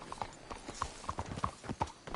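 Horse hooves clip-clop steadily in Red Dead Redemption 2, a run of close, crisp, evenly paced hoof strikes on hard ground, with no talk over them.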